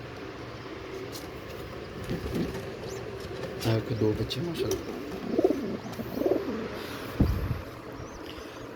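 Pigeons coo in a home breeding loft, soft repeated low calls with faint chirps, under someone talking close by.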